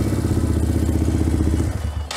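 Suzuki DR200 single-cylinder motorcycle engine running with a Nibbi racing carburetor, a close, loud, steady idle with an even pulsing beat and a slightly rough edge, heard with no talking.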